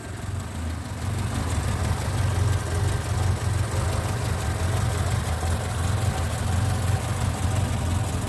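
Engine of a 1964 Ford Capri coupe idling steadily after a cold start, a low, even rumble that rises slightly within the first second and then holds close and unbroken.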